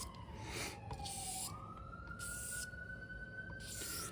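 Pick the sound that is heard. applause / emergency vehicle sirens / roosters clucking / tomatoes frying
emergency vehicle sirens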